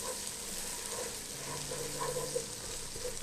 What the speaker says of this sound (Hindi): अब हम इसमें डालेंगे जिंजर गार्लिक पेस्ट, अदरक और लहसुन, और इसको हम इसमें मिक्स करेंगे